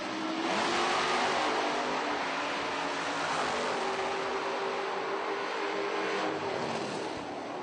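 A Mustang and a Camaro launch side by side in a footbrake drag race. Loud, sustained engine roar rises as they accelerate, carrying a droning pitch that shifts upward and then stays steady until the end.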